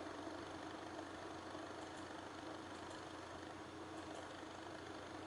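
Steady, even whir of computer graphics card fans spinning, previously sticky, running as a constant low hum with no change in pitch or level throughout and no voices.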